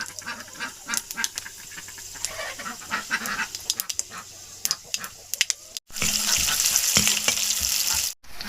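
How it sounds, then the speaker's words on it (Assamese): Panch phoron spices go into hot oil. Scattered clicks and scraping stir sounds come first, then a loud, dense sizzle surges up close and holds for a couple of seconds before cutting off. "পাঁচফোৰণ দিছোঁ।"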